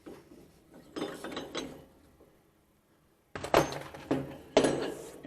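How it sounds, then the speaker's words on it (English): Lock nut spun off the shaft of a tire balancer and the cone pulled free, giving bursts of close metallic ratcheting and clanking, a brief lull, then three sharper grinding spins, without speech. "we spin our lock nut off and remove the cone"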